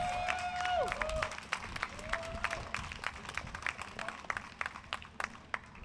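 An audience at an overdose awareness event applauds in welcome for Derek and Chad, a dense patter of many hands clapping steadily, with a voice speaking over the start.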